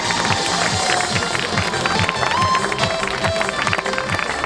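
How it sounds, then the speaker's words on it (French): An audience applauds girls at a youth triathlon awards ceremony, with continuous clapping and crowd noise at steady loudness throughout, while voices can be heard underneath. "donnez un applaudissement pour les filles"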